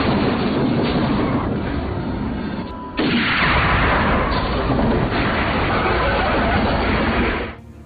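Heavy rifle fire in a film scene: a sustained loud, dense roar with a sharp new blast near three seconds and another around five, dropping off at the end, no voices.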